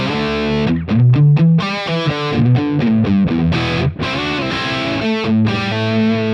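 A Vigier GV Wood electric guitar on its humbucker plays a loud, distorted crunch riff through a Helix Vitriol Crunch amp model with only reverb engaged: chugging chords with sharp stops and sustained notes, no voice.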